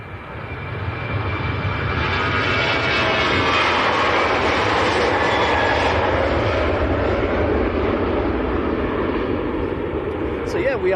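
A Ryanair Boeing 737-800 on its takeoff roll at Manchester Airport produces a loud, steadily building jet engine roar that swells and then holds, with people talking underneath.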